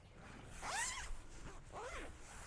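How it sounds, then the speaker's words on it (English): A zipper drawn shut on a Dutchware Chameleon hammock, two quick rasping pulls in close succession, near and fairly loud over a faint background hiss. "you can zip it completely closed"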